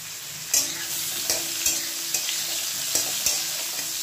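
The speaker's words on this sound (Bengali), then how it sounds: "বয়েল করে ভেজে নিচ্ছি" Boiled potato and squash fry in a pan with a steady sizzle, punctuated by about six regular scraping stirs of a spatula at close range, no talking.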